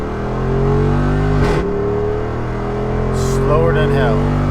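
A Jeep 392 V8, daily driven with a full tank and a load of tools, pulls hard through a quarter-mile run with a loud, continuous engine roar and rising pitch.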